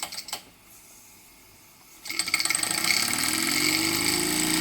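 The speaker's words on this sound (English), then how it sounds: "straight away you can hear the engine racing" Quiet ticking and a soft click give way to a small live-steam Mamod Centurion model traction engine suddenly racing into a fast, buzzing, rattling whir that keeps climbing once its drive belt is removed.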